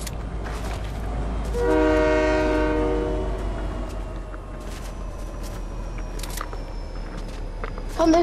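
A train rumbles past in a video game, its horn blaring in a long loud blast over the steady rolling of wheels, followed by continued rail rumble and a few sharp clanks near the end.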